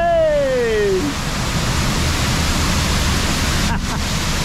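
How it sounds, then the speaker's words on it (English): Massive waterfalls thunder at an Efteling ride in the Netherlands, a loud, steady broadband roar that fills the whole stretch, with a brief vocal whoop at the start. "Massive waterfalls."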